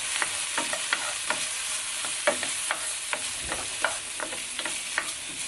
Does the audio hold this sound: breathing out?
no